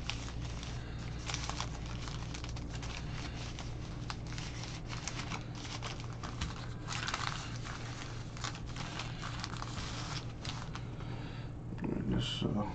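Sealed packs of 2020 Panini Phoenix football cards are shuffled by hand, giving a steady, close run of crinkly plastic rustling and soft tapping with no pause throughout.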